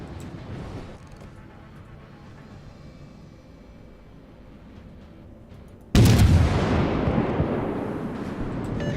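Anti-aircraft guns on the warship Duca D'Aosta in a naval video game: a low rumbling backdrop, then an abrupt loud eruption of heavy, continuous gunfire that keeps roaring to the end.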